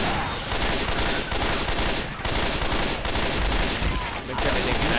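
Rapid burst-fire gunshots from a weapon in a video game ring out in dense, continuous volleys that stay loud and close for the whole stretch, with only brief dips between bursts.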